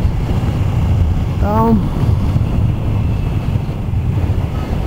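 Strong wind buffets the microphone outdoors as a constant loud roaring rumble, and a voice briefly speaks over it.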